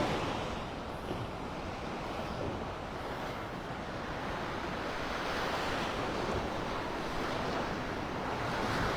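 Ocean surf washing onto the shore at Delnor-Wiggins beach in North Naples, Florida, a steady, full roar of breaking waves with some wind, continuous and close, with no voices.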